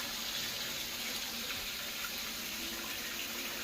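Water runs steadily from a tap into a sink in an old house, a faint continuous hiss and splash with no voices.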